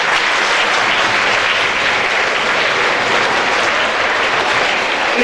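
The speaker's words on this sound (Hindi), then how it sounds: "ताली बजाएं एक बार।" A school audience at an event applauds together in a thick, continuous roar of clapping that stays loud and even from start to finish.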